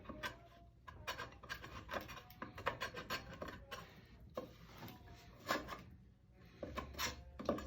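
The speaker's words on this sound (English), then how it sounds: "I'm gonna kind of scrape those too" Scraping burrs off a replacement Ibanez guitar body, a close series of short irregular rasping scrapes of varying strength, with small knocks between strokes and no talking.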